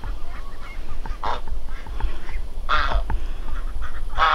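A flock of farm ducks and geese honks and quacks outdoors, scattered calls rising in a few louder bursts over a steady background, fairly close, with no talking.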